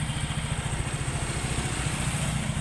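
A Yamaha Mio Gear scooter engine runs steadily on test after repair, a loud, close, even mid-pitched putter with a smooth rapid pulse and no voices over it.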